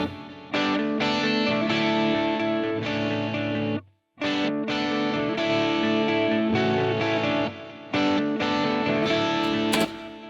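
Electric guitars ring out with distortion, repeating delay and spacious reverb, playing continuously apart from one short break.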